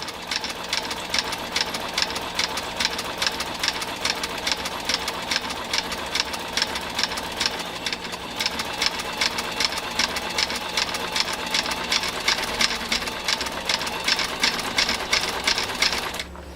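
A New Home 660 sewing machine drives through 10 oz leather with a continuous, fast rhythmic clatter of needle strokes, steady and loud throughout, with no voices.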